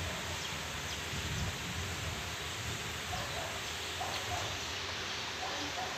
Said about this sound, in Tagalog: Naliligo siya sa ulan